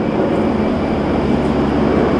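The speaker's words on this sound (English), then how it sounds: "Two military choppers?" Two military helicopters pass overhead, giving a loud, continuous, broadband rumbling roar that holds steady throughout.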